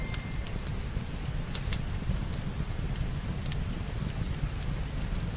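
Fireplace crackling in the video game Spirit City LoFi Sessions, a steady low rumble with sparse sharp pops and snaps, continuous and moderately close, with no talk over it.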